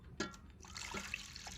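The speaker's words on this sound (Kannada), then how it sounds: "ಇವಾಗ ಮಿಕ್ಸರ್ ಜಾರ್ಗೆ ಸ್ವಲ್ಪ ನೀರು ಹಾಕಿ" Water splashes into a mixer jar in a home kitchen while a mutton curry is cooked, a short close pour with a brief first splash, then a gentle trickle and faint drips, with no talking.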